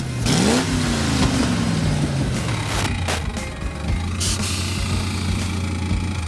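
A 1935 Ford rat rod at a car show, its engine revving hard with rising and falling pitch sweeps, close and loud throughout.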